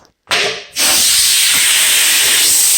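Compressed air bursts from an open valve on a discarded curbside riding mower, a loud, sudden broadband hiss that starts, breaks off briefly, then resumes and holds steady and close without any talk.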